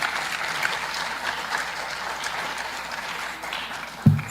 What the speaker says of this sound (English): let's give, my team members a round of applause